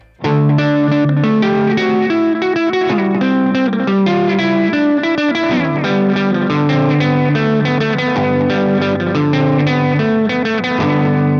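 A loud, distorted electric guitar riff with feedback plays continuously with buzzing, sustained overdriven tones and a dense, saturated sound.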